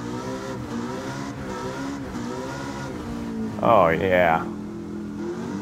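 Game car engine from Gran Turismo 7, an older sports car without traction control, revs and drones steadily, with a louder rising rev burst near the end; someone talks over it briefly.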